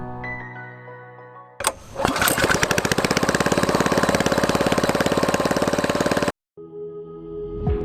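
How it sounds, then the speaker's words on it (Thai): A Thai long-tail boat engine sputters to life, then roars loudly with a rapid, steady throb for several seconds before abruptly cutting off, heading out toward Ban Don Bay, Surat Thani. "ขับเรือหางยาวฝ่าสายน้ำออกสู่ปากอ่าวบ้านดอน"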